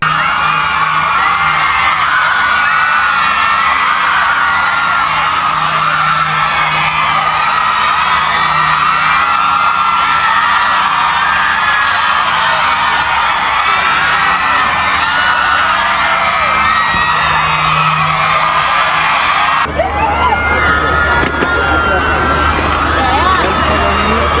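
Fans outside a Paris Fashion Week 2025 show scream and cheer for BTS member Jimin, a loud, unbroken roar of high-pitched shrieks and yells from a large, close crowd, continuing for over twenty seconds with a sudden shift near the end.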